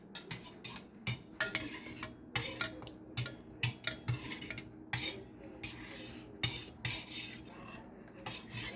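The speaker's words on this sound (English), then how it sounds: "And then you just start mixing." Muffin batter with soft ingredients is stirred in a bowl, giving a repeated scraping and rubbing rhythm of utensil against the bowl, with close, steady strokes and no talking.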